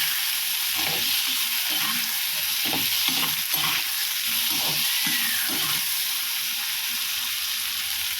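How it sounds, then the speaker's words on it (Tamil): Boiled elephant foot yam being stirred in a frying pan with tamarind and a pinch of salt, a steady sizzle beneath repeated scraping strokes of a spoon across the pan, close and continuous. "போட்டு நல்லா ஒரு பரட்டி விட்டுக்கலாம்."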